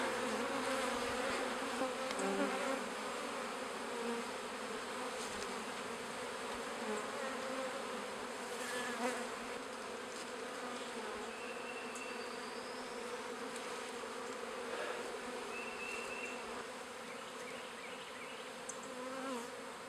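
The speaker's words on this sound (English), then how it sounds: "It's starting to get nighttime, so all the bees are coming in" A dense, steady drone of many honeybees buzzing together as they return to the hive at nightfall, continuous and close, with a few individual insects flying past.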